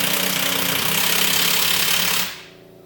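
Pneumatic impact wrench hammering the shock absorber nut tight on a 2013 Chrysler 300's rear shocks, a loud continuous rattling burst of about two seconds that cuts off abruptly, close and with no talk over it.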